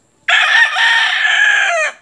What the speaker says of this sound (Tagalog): Mga alaga namin, mga manok na pula.